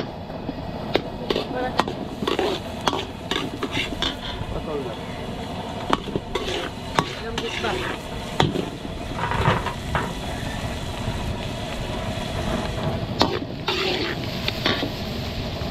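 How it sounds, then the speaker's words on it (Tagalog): Garlic frying in melted butter gives a steady, close sizzle, broken throughout by sharp clicks and scrapes of stirring against the pan. "tutunawin muna natin yung butter tapos lalagay na natin yung ating garlic"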